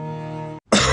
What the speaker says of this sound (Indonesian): Oh, batuk.